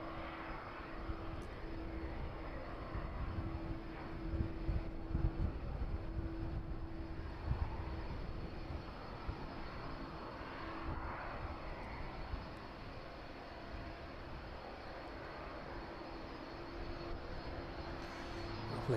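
Jet airliner engines taxiing past on a taxiway at East Midlands Airport in the evening, a steady loud whine and rumble sustained throughout with no talking.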